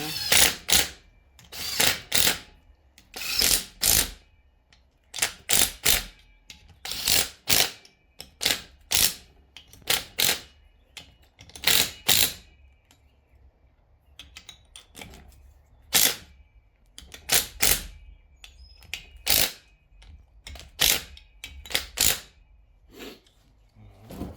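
A ratchet tightens the pump screws on an old TH350 automatic transmission during a rebuild, giving close, sharp bursts of rapid clicking separated by short pauses, with no talk.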